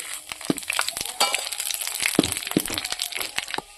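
Bay leaves and dried red chillies crackling and popping in hot oil in a village-style kitchen for cauliflower curry, a run of sharp, close, irregular crackles over a faint sizzle.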